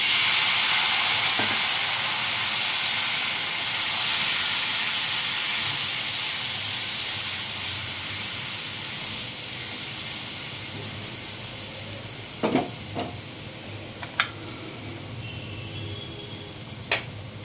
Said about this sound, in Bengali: অল্প একটু জল অ্যাড করছি, মশলাটা গুঁড়ো তো তাই জন্য পুড়ে যেতে পারে।